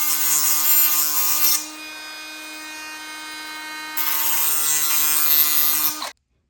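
Metal lathe chamfering the ends of a driveshaft, a steady tonal motor whine with harsh cutting noise in two bursts around a quieter spin, then the machine stops abruptly; close, no talk.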